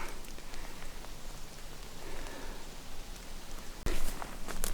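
Steady rain patters on surfaces all around, a dense hiss of drops with a brief louder clatter near the end.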